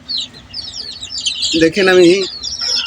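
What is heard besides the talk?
hens clucking and baby chicks chirping in a rooftop cage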